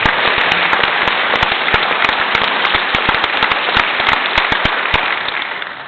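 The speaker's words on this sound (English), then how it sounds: "Can we get one more nice round of applause for the third band" An audience applauds a university jazz band at a full concert, loud, dense clapping that continues steadily and thins slightly at the end, with no voices over it.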